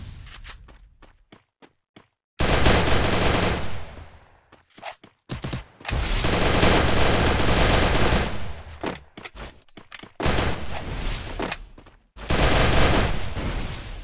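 Rapid bursts of automatic gunfire in a Free Fire 1v1 custom match. Loud sustained volleys are separated by short gaps and a few isolated shots, with no talk over them.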